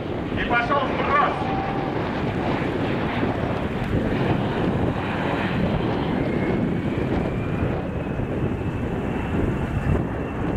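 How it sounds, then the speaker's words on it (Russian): A Beriev Be-200 amphibious aircraft flies over Ramenskoye airfield during the MAKS 2011 airshow, a steady, broad engine roar heard from a distance with heavy wind buffeting on the microphone throughout. "Б-200 в небе аэродрома Раменское."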